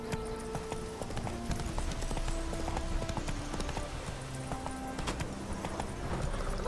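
Hooves clip-clop in a steady rhythm as a horse trots in The Witcher 3 video game, with game music tones and ambience underneath and a brief whinny possible.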